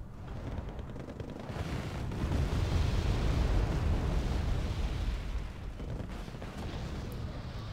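Mortar explosions in a battle video game: a dense, continuous rumble of overlapping blasts and booms that swells in the middle and stays loud throughout, with no voices.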